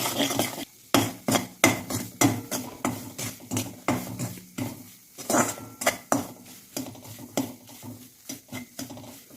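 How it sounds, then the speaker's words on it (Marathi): A spoon stirs four spoonfuls of fine semolina in hot ghee in a pan while making churma laddoos. Close, rhythmic scraping and clinking strokes ride over a soft sizzle. "आता या तुपामध्ये मी टाकून घेते चार चम्मच बारीक रवा तूप गरम आहे त्यामुळे पटकन असा फ्राय होतो"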